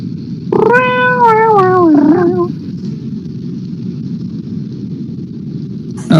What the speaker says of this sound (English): That's why you gotta add the meowing in.